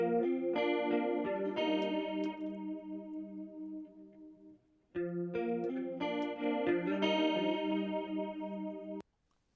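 A chorus-effected electric guitar in a reggae mix plays sustained, shimmering chords with a thick, slightly distorted tone, pausing briefly midway before the strummed pattern resumes, with no voices.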